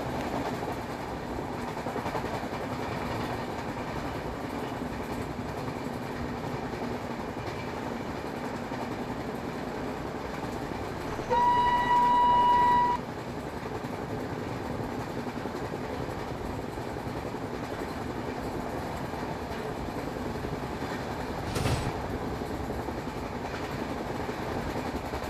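Trainz Simulator express train journey skipping through a station, with steady rolling rumble and rhythmic wheel-on-rail clatter, a brief horn-like tone partway through, continuous and loud.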